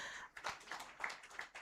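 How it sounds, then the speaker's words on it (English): Audience applause at a gender equality bell-ringing event at the Uganda Securities Exchange: a short, fairly quiet patter of clapping hands, steady and uneven. "Let's give her a round of applause."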